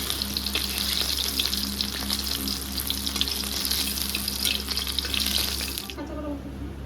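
Green plantain slices frying in oil, a continuous close sizzle with faint clinks and a low steady hum underneath, softening abruptly near the end.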